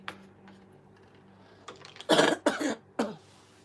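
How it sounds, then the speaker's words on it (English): A woman clears her throat in a few short, harsh bursts near the end, close and fairly loud, after a quiet stretch with faint ticking. "Let me clear my throat."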